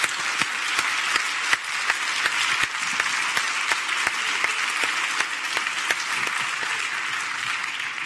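Steady applause from a large crowd at an awards ceremony, dense and sustained throughout, with sharper individual claps standing out above the wash.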